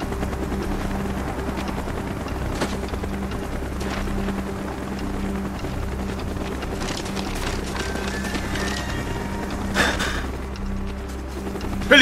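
A helicopter in the video game Call of Duty: Black Ops drones with a steady low rotor hum throughout, joined by a few brief bangs and mechanical clanks near the end.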